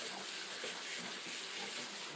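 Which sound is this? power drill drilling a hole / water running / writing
water running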